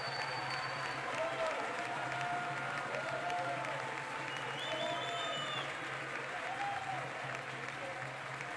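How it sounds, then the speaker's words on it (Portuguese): A crowd gives a standing ovation at a ceremony where Margareth Menezes takes office as Minister of Culture, steady sustained clapping with scattered cheers and voices mixed in. "Gente, é para aplaudir de pé, vai mandar."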